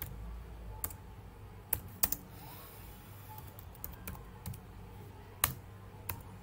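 Sparse keystrokes on a computer keyboard while entering a YAML list, scattered irregular clicks at low level with long quiet gaps and a faint room hum beneath.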